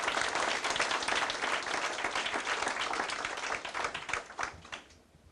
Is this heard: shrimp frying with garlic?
no